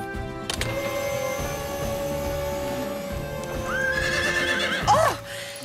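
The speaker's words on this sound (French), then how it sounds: "C'est le bruit qui fait peur au cheval." In a cartoon rescue scene a frightened horse gives a loud, rising whinny near the end. A whining electric winch hums steadily in the background, with clip-clop hoof sounds underneath.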